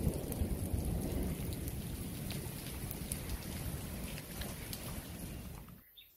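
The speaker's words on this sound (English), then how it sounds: "This is the hailstones in the middle of June." Hailstones pelting down during a June storm in Bulgaria, a dense, steady clatter of icy drops hitting surfaces close by, holding loud and even for several seconds before easing off at the end.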